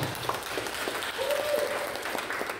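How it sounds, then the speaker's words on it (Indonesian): Applause from an audience at a school social teaching event, steady sustained clapping filling the room for a couple of seconds, close and fairly loud. "Tepuk tangan buat mereka dulu"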